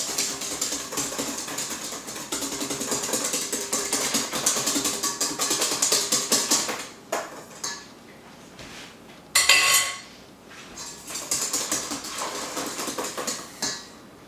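A utensil stirs a liquid crème anglaise mixture in a pot, giving a rapid, continuous scraping and clinking. The stirring breaks off briefly twice, then resumes at the same brisk pace.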